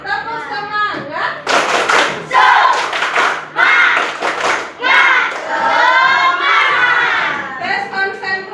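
Young children in a classroom chant a rhythmic spirit clap routine together, loud and close, with bursts of group clapping and thumping interleaved with shouted sung phrases.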